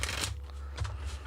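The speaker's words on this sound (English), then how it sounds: "there's a shuffle." Oracle cards being shuffled by hand during a tarot reading, a brief close riffle of card stock with two quick bursts of flicking and rustling, alone with no talk.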